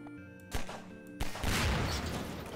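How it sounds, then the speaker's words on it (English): Explosion in the Garry's Mod video game: a couple of sharp bangs followed by a loud, broad rumbling blast that lingers and slowly fades. "Oh, what is that? Explosion."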